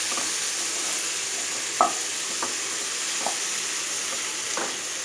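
Cauliflower fries in hot oil in a pan with a steady, soft sizzle, and a few light scraping stirs break through it at irregular intervals.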